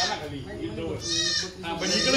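Kathewadi goats bleat nearby, a wavering, nasal cry that rises and falls across the short stretch, heard close over a busy farmyard background.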